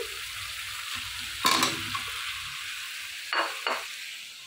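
Meat goes into a pan of fried spice paste and bottle gourd, giving a soft continuous sizzle broken by a few louder scraping stirs and clinks of the spoon near the middle and end.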